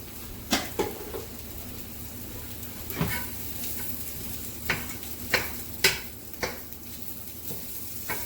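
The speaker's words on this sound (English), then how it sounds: "we're going to kind of chop them in the pan with our spatula" Mushrooms sizzle in a hot pan while a spatula chops and scrapes at them, giving scattered sharp clacks and taps over a steady frying hiss, with no talk.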